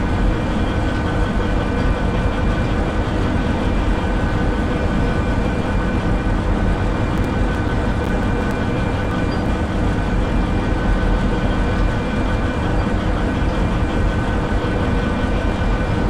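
A heavy freight train in the Derail Valley game, 24 cars hauled by three engines, gives a steady, loud low rumble of rolling wagons and engine drone that holds without break throughout.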